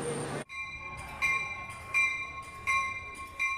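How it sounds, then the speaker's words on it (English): A Metro commuter train arrives on track 8 inside Chicago's Union Station, with tonal squeals and hums pulsing at regular intervals under a low rumble after a brief burst of broadband noise at the start. "A train arrives on track 8 inside Union Station."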